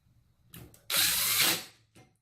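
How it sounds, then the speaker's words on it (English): A power driver tightens a bolt on a handle in one close, loud whirring burst of just under a second, with short mechanical clicks before and after. "Insert your H9 bolt and tighten."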